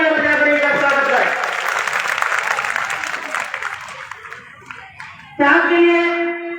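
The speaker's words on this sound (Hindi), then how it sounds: "जोरदार तालियां बजाकर इनका स्वागत करें" Girls at a government girls' senior secondary school annual function in Rajasthan clap loudly while an amplified voice talks over them. The applause thins and fades, and then the speaker's voice returns on its own.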